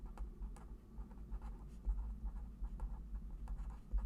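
A pen or marker writes out a trapezoidal-rule calculus formula, with close, continuous scratchy strokes and short taps.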